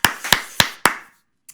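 A church congregation claps during a morning devotion service: four sharp, evenly spaced claps close by, each trailing off briefly, then a short pause and one faint final clap.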